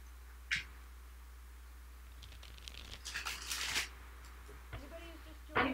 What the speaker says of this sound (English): Then I shuffle one more time.